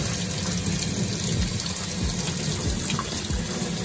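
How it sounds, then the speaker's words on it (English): Warm water steadily running and gushing through a car air intake being flushed during cleaning, a continuous close wash with low gurgling pulses and no talk. "we got some warm water right now. I'm gonna go ahead and run it through it."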